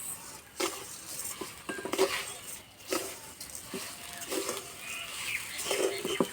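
Sago pearls and sugar stirred in a pan make a rhythmic series of spoon scrapes and light metallic clinks against the pan, fairly close and moderate in volume, with no talking.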